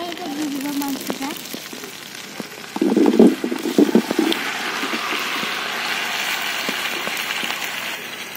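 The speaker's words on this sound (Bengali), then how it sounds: "এখন গরম তেলে এটা দিয়ে দিব মাংসটা।" Young goat mutton drops into hot oil in a village kitchen, setting off a loud burst of spattering sizzle around the third second that settles into a steady, crackling fry; a voice is heard briefly near the start.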